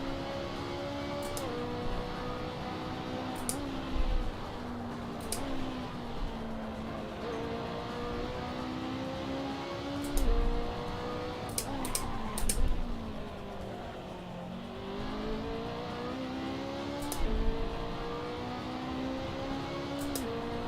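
A race car engine revving and shifting through gears on a hot lap in a racing video game, steady rising and falling drone throughout with occasional sharp clicks, no talk over it.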